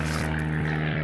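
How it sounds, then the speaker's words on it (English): Steady propeller-plane drone passing overhead, a continuous loud hum with a slow wavering pitch, heard outdoors at a storm-damaged cabin after a hurricane. "Planes are still flying over."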